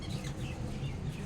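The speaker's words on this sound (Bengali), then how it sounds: "আর এই যে এখানে পাখি" Birds give chicken-like clucks and short calls beside a roadside canteen dhaba near Orgram forest, a brief, steady burst of close chatter.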